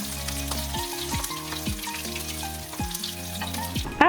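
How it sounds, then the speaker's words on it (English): Shrimp sizzle steadily in hot oil, a soft continuous crackle beneath gentle background music. "Fry them for about 2 to 3 minutes, flipping them after about a minute."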